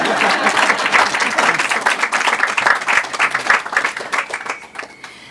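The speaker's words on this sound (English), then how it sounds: "You can clap." An audience applauds, many hands clapping in a dense, sustained burst that gradually thins out toward the end.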